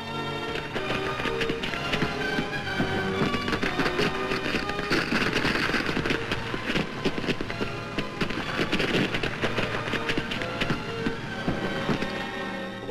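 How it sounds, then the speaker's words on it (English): Fireworks over Spithead at the 1953 Royal Naval Review give a continuous dense crackle of bangs and pops, heard through an old, busy film soundtrack with music-like tones underneath. "At a given signal, the huge firework display begins."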